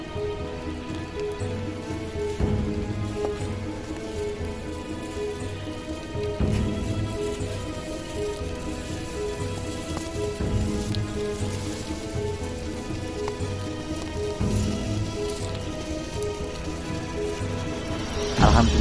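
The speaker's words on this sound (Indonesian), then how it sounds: "Alhamdulillah kita diberi berkah hujan." Steady rain falls at a site with ancient graves and a temple ruin, a dense continuous patter on surfaces with occasional heavier drips, close and even throughout.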